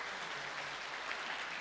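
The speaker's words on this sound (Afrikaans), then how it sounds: "Kom ons gee net weer vir hulle laaste hande klap" An audience applauds steadily at a church service, a dense, even clatter of clapping that fills the whole moment.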